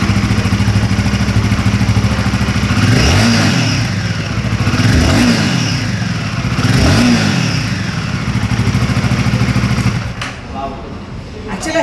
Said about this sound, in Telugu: ఫస్ట్ అయితే మోటార్ సైకిల్ స్టార్ట్ చేసి ఈ మోటార్ సైకిల్ ఇంజన్ రోర్ ఎట్లుంది, ఇంజన్ సౌండ్ ఎట్లుందని చూసాం.